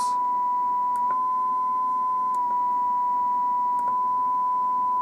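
A steady 1 kHz sine tone from a function generator kit holds alone throughout, clean and continuous, with a few faint clicks as the setting steps.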